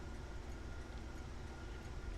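Steady rumbling of a train running on rails in the Factorio Angel's and Bob's mods game, a continuous low mechanical drone with faint clatter and no pauses.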